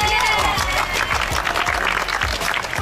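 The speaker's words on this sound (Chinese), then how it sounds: "这样就鼓掌了" A crew of people on a yacht break into applause, a dense steady clatter of clapping hands that fills the whole moment, with lively voices mixed underneath.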